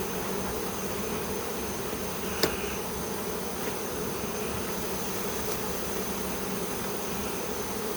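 A July swarm of honeybees hums at a hive in a steady, dense drone that holds unbroken throughout, with one brief click partway through and no voices.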